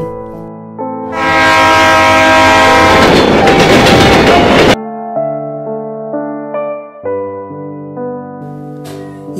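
A train passes at a railway station with a loud roaring, rattling rush and a horn-like tone for a few seconds, then cuts off. Music plays throughout, and no one speaks.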